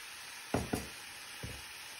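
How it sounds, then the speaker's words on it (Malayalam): Spinach and mushroom thoran being stirred in a pan, three short scraping strokes of a spoon, two close together and one after a pause, over a faint background hiss, quiet and close. "ഇനി നമുക്ക് നല്ലപോലെ ഒന്ന് മിക്സ് ചെയ്ത് എടുക്കാം"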